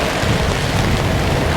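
Heavy rain pouring down in Halifax, a loud dense continuous hiss of water hitting the ground and an umbrella close by.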